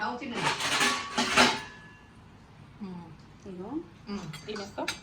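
Spoons and metal utensils clink and clatter among pots in a home kitchen as hot oil heats, a few close sharp knocks early on, with someone talking over and between them.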